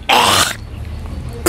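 A single loud, close cough burst lasting about half a second, then quiet room tone before a brief second sound at the end.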